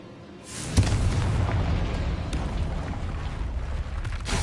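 Confringo blasting spell in Hogwarts Legacy, a heavy booming explosion that bursts in and rolls on as a loud, sustained rumble with crackling debris.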